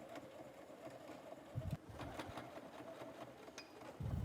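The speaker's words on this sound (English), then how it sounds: "sew around a square and an X through it to secure those straps onto the bag" A sewing machine stitches a square with an X through it to secure straps on a shopper tote bag, heard as a close, quiet mechanical whirring in short runs separated by brief pauses and fabric handling.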